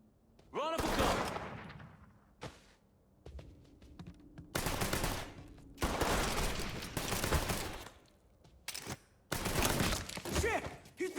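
Gunfire from Mafia 3 comes in repeated loud bursts of automatic fire, some sustained and some short, separated by brief pauses, with a few sharp single shots and impacts close by.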